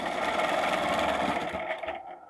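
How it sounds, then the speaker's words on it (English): A sewing machine stitches an arc in a quilting design, a close, quick mechanical whir that runs for about a second and a half, then slows and stops, with no talking. "Let's stitch an arc."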